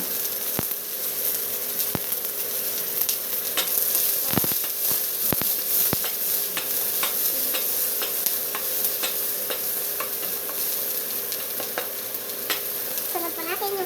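Onions fry loudly in a hot pan for Filipino sarsyado, a constant dense sizzle broken by sharp metal clinks and scrapes as they are stirred, close and unbroken throughout.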